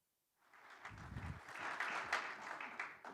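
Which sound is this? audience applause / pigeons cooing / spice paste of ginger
audience applause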